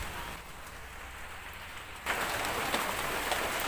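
Rain falls steadily outdoors, a soft hiss that suddenly grows heavier and louder halfway through and keeps pouring as a dense wash of drops.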